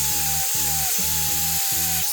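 A power tool with a cloth polishing disc grinds against a rusty axe head, giving a steady high whine close up with a repeating pulsing rhythm as the disc presses and lifts from the metal.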